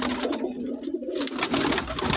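Soft, low pigeon cooing repeats steadily against a constant hiss, close by, with no talking.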